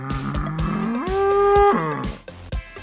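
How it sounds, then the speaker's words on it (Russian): A cow lets out one long, loud moo that rises in pitch and then falls away, with nothing else competing. "Семья коров."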